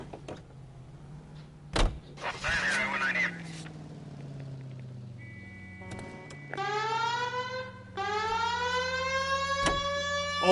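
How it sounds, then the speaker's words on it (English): Police car siren in the video game L.A. Noire, a rising wail that starts near six seconds and then cycles steadily and loudly after a door-like thump and some engine noise. "We have a siren."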